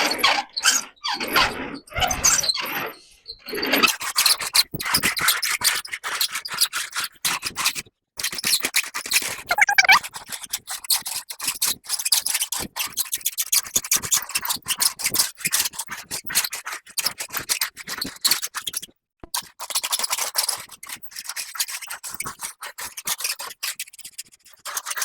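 A hand roller tool bends steel board and batten siding metal, producing continuous scraping and rasping with irregular crinkling squeaks that rise and fall as the roller runs along the panel, up close and without pause.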